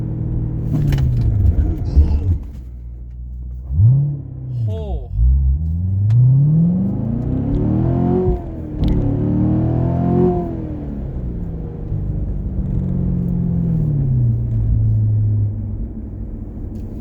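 A C7 Corvette Grand Sport engine revs and accelerates, then drops away as the car brakes hard from 30 mph; a person exclaims briefly and engine rumble continues underneath.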